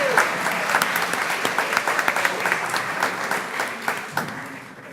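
Audience applause at a school board meeting honoring elementary principals and their staffs, steady dense clapping from a room full of people lasting the whole stretch, with a few sharper claps standing out near the front.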